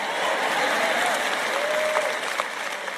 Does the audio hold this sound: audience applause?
yes